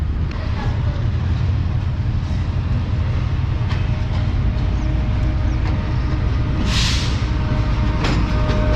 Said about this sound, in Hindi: ट्रेन जो है हमारी वो प्लेटफॉर्म नंबर 7